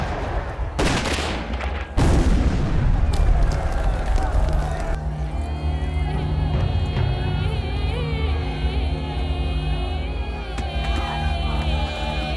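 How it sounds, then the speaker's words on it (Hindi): Gunfire and artillery in a Hindi-dubbed South Indian action film, with dense loud bursts and booms over a sustained roar and swelling dramatic music that carries through the scene. "दोनों तरफ से गोलीबारी जारी है।"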